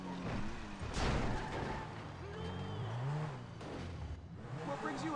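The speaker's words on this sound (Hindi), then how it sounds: "तो लेके चलते हैं गाड़ी फटाफट।" A Lamborghini Veneno engine revs while being driven in the GTA V video game, a steady, fairly quiet motor drone rising and falling under someone talking throughout.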